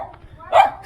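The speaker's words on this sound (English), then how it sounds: "Scary, scary dog." A single scary dog barks once near a canyon or valley viewpoint, a short loud yelp rising over quiet outdoor background.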